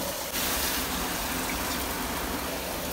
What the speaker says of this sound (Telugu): వాటర్ వేసేసిరా